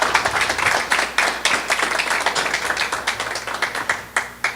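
Scattered hand claps from a small audience at a Spanish-language talk welcoming a guest speaker: quick, uneven claps that stay fairly steady and close, with no voices over them.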